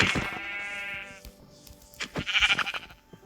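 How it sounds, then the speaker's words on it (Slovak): Minecraft sheep bleating, a white sheep: a couple of short, close, nasal bleats standing alone with no talk over them. "A máme tu bielu ovcu"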